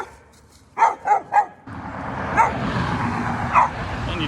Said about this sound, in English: And now we got dogs chasing me.